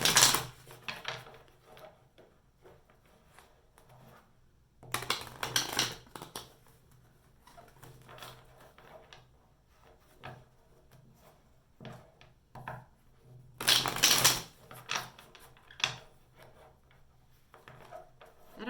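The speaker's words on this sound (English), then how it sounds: "let's pull a few tarot cards for you" Tarot cards being shuffled by hand in a quiet room, three distinct bursts of riffling and rubbing with soft handling sounds between them, close and fairly faint.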